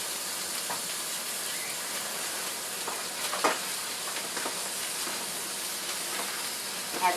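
Green pepper and napa cabbage sauté in a pan, giving a soft steady sizzle and hiss with occasional faint clicks of stirring throughout, fairly quiet and without speech.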